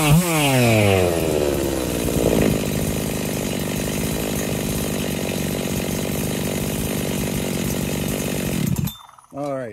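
Husqvarna 385XP chainsaw on its first start after assembly, close and loud: a revving rise that settles into a steady, buzzing two-stroke run for about nine seconds before cutting out abruptly.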